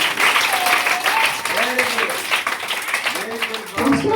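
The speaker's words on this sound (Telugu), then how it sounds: "క్లాప్ కొట్టండి." Children at a Sunday school puppet show clap together in a lively, continuous patter while adult voices speak and sing over the applause.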